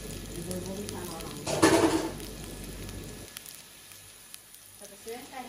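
Eggplant adobo (adobong talong) cooks in a pan at home, with a loud sizzling burst as food hits the hot oil before it settles to a softer crackle.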